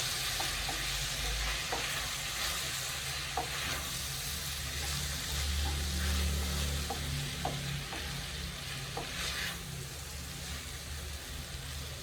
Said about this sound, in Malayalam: നന്നായിട്ട് പൊരിച്ചെടുക്കാം